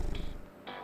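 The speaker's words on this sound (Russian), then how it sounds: "Он так мило мурлыкает." A cat purrs softly in the video game Hot Tin Roof: The Cat That Wore A Fedora, a low rumbling hum with brief brighter chirps layered on top, fairly quiet and heard alone.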